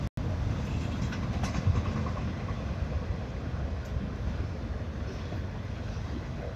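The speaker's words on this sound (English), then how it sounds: "After the train goes by" A CSX train rolls past at a steady distance, a continuous low rumble of rail cars mixed with wind buffeting the microphone.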